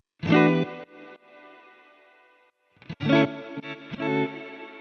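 Chords play through the RC20 plugin with a wobbly, warbling effect and roomy, spacious reverb, in short swelling bursts separated by gaps of near silence.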